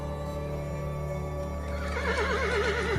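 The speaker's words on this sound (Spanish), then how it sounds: "La yegua mora relinchó con fuerza, estirando el cuello en un galope desaforado." A Moorish mare neighs loudly in a wavering, rising whinny over a low steady hum, with faint hoof clip-clop suggesting a gallop.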